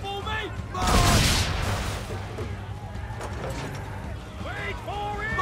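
Swivel guns fire during a naval battle in the video game Assassin's Creed III, with one loud, broad blast roughly a second in, followed by lighter impacts and shouting voices over a low rumbling ship ambience.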